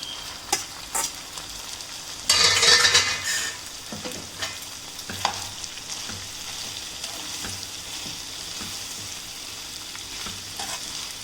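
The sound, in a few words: stirring spaghetti with chicken in a pan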